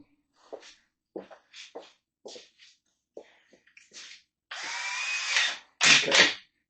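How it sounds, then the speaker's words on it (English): A power drill bores through a part for a Kawasaki KZ400 street tracker cafe racer in a workshop, running in two sustained whining bursts after a series of short clicks and knocks. "we're just going to drill our way through"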